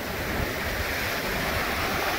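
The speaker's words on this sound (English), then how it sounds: "Who doesn't love the sound of the beach and the waves crashing?" Steady roar of ocean surf washing onto a beach at South Padre Island, with continuous wind buffeting the microphone; no pauses, loud and close.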